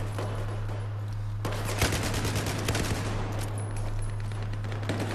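Rapid automatic gunfire from Battlefield 4 gameplay, a dense burst of close, loud shots crackling over a steady low game hum, continuing for several seconds with brief pauses.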